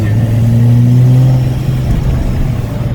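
A supercharged Subaru EZ30 flat-six engine revs hard as the car pulls away, a loud, rising droning note that holds and then fades over a few seconds, with no voices.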